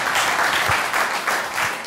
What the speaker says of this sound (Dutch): Toon Gerbrands, geef hem een groot applaus